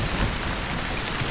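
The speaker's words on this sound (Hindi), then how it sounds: "मैंने कहा था ना कि बारिश होगी" Steady heavy rain pouring down outdoors, a dense even hiss of drops on surfaces with no voices, loud and continuous throughout.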